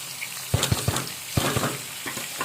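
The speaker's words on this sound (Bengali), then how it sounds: "এখন আমি করলাটা সবুজ সবুজ করে ভেজে নিব।" Bitter gourd frying in hot oil, a soft sizzle with several sharp pops and spatters, close up with no speech.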